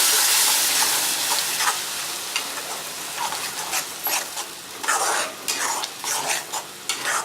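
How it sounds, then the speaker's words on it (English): Radish chutney stirred in a kadai makes repeated scraping swishes and a wet sizzle, in uneven strokes that grow busier toward the end, with no voices. "Now stir this. Let's stir this well."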